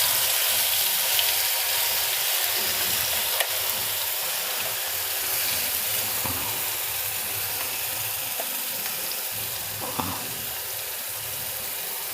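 Red chili chutney, Rajasthani style, hits hot ghee with cumin seeds and gives a steady, crackling sizzle with faint stirring, close by and without talk.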